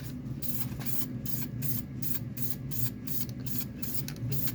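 Aerosol spray paint hisses in repeated short bursts across a car wheel as light coats go around the hub and onto the spokes, steady and close over a low background hum.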